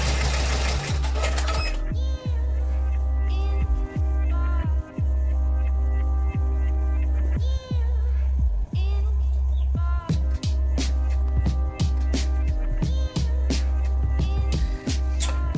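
Embroidery machine stitching a 3D-embroidery outline onto a cap, a steady mechanical hum with rapid needle throbbing, loud and close, with brief pauses and clicks as it runs toward the end of the outline.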